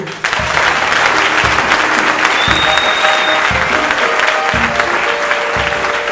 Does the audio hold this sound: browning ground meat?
no